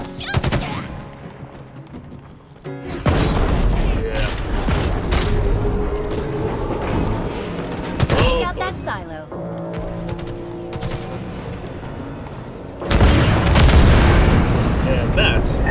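Halo Infinite combat with rapid bursts of gunfire and booming blasts, loud and dense, easing mid-clip before another heavy volley near the end, with voices shouting over the fight.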